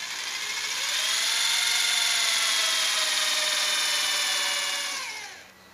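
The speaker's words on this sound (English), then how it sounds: "using a 1/4 inch drill bit, we just drill the two holes" A power drill with a 1/4 inch bit whines steadily at high speed as it bores holes in a kayak, holding a sharp constant pitch for several seconds before spinning down.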